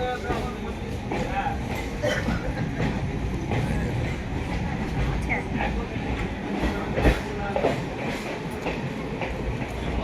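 A train runs along a nearby railway line beside a Tata workshop in Barasat, giving a steady loud rumble with rhythmic wheel clatter throughout, while voices talk over it.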